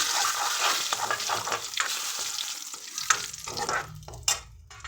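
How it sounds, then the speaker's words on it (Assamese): Whole spices such as panch phoron, cloves, cardamom and bay leaf frying in a little oil in a wok, crackling and sizzling with stirring scrapes and occasional sharp pops, fairly close. "এখন কেৰাহীতে অলপমান তেল দি তাত পাঁচফোৰণখিনি ফুটাই ল'লোঁ"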